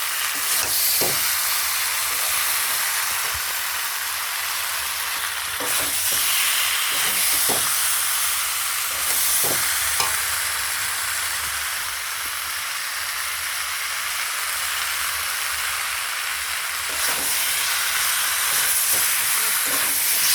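Strips of green banana fry in hot oil in a pan, a loud continuous sizzle and hiss close up, broken now and then by spatula scrapes and stirring knocks.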